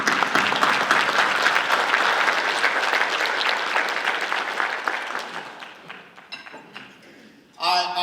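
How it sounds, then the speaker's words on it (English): An audience at a female athlete awards event in Columbus breaks into loud, dense applause that carries on for several seconds, then thins out and fades before a sudden loud burst near the end. "giving them a round of applause"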